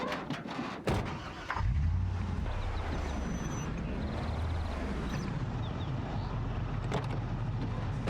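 A car engine in the Project Zomboid video game idles steadily at close range, a low continuous rumble with a brief louder burst near the start and faint game sounds over it.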